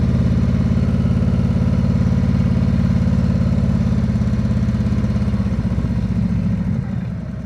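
Harley-Davidson Road Glide engine thumping at an easy cruise, a steady, close, low rumble with a regular pulsing beat that eases slightly toward the end.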